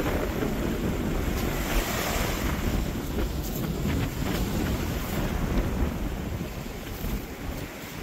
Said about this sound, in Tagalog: Ayan ang dagat. Dagat ng playa.